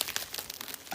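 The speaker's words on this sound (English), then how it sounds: "So I scrunch them in half." Paper envelope pieces being scrunched in half by hand, a close, crackly crinkling made of quick rustling bursts across a single second, with no talking.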